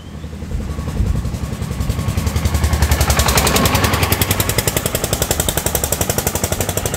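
A diesel train engine at Pha Sadet station in Saraburi, Thailand, gives a loud, close, rapid chugging throb that builds and then settles into an even pulsing beat.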